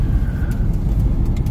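Congested road traffic in Lagos on the route from the airport to Lekki, a close continuous car engine rumble with faint passing vehicle hiss and brief higher tones, heard from inside a vehicle without talk.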